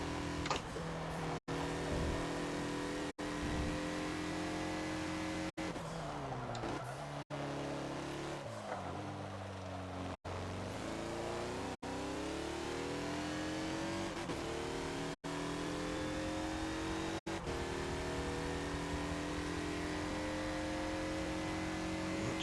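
A Mazda Lola B12/80 prototype race car at VIR in Forza screams through its gears, the engine note rising and falling with repeated upshifts, downshifts and brief cuts, loud and continuous with no voices.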